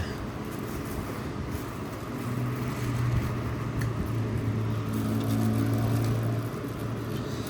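A loud motorcycle or car passes outside, a low engine drone swelling and fading through the middle of the stretch, heard from indoors at a moderate distance.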